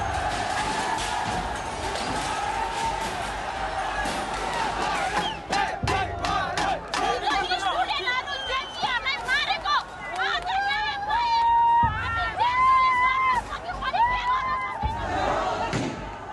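A large crowd roars, shouts and chants while storming Nepal's federal parliament building during Gen Z protests; dense, loud and continuous, with individual yells and whistles rising above the mass of voices.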